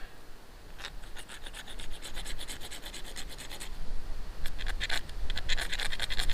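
Steel scraper rasping against a cheap magnesium bar with a ferro rod insert, shaving off magnesium for a fire starter; repeated close scraping strokes in quick rhythmic bursts, a pause, then more rapid strokes, with no talking.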